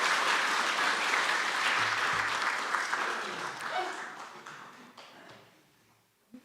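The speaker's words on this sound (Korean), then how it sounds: "우리 박수로 환영하시도록 하겠습니다" A church congregation at a Sunday service claps to welcome a newly registered member, a full round of applause that fades gradually over several seconds before a faint voice returns near the end.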